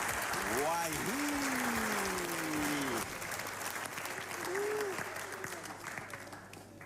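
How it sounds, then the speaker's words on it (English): Studio audience applause on a game show, steady and fairly loud, with a voice speaking and calling out over the clapping throughout. "Don't ever clap for yourself again."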